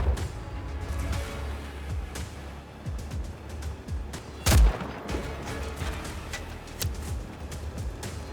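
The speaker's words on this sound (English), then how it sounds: "so that rifle shot didn't actually kill him" A sniper rifle shot in the open-world game Just Cause 4: one loud, sharp crack stands out over a busy backdrop of rumbling ambience and scattered lighter pops.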